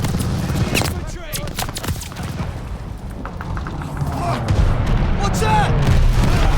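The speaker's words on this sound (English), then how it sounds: "Enemy machine gun!" Enemy machine-gun fire in the World War II shooter Call of Duty: Vanguard rattles in dense, rapid bursts over rumbling battle noise, while voices shout over the din.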